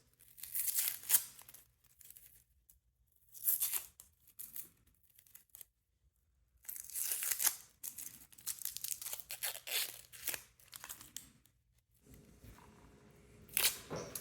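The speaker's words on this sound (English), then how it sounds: "We're going to peel the onion." An onion being peeled by hand, its papery skin giving off bursts of tearing and crinkling, close and fairly quiet, separated by short pauses.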